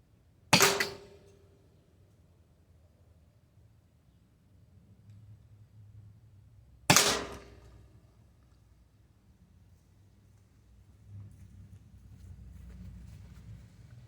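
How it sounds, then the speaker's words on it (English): Two Byrna less-lethal kinetic shotgun rounds fired outdoors at a bottle and a target behind it: two sharp, loud cracks about six seconds apart, each fading quickly into quiet ambient noise. "let's take another shot at the Fago bottle, and we'll take a shot at the target behind it, just to hear what kind of impact it has"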